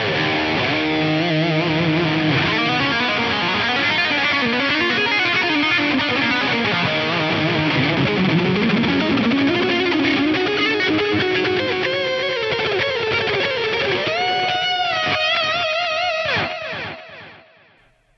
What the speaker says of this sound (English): What if I kick the tube screamer in on top of this?